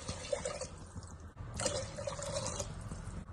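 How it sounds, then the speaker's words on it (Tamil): Water poured into a cooking pot for ghee rice, a steady, fairly close pour and trickle that runs almost continuously with one short break partway. "இப்போ 2 உலக்கு தண்ணி ஊற்றணும்."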